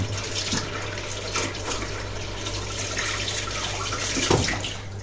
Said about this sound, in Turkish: Şimdi elimi ben bir yıkayayım.